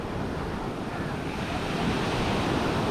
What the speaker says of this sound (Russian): Как видим, здесь какие-то волны побольше уже стали.